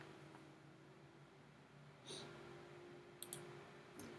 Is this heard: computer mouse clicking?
yes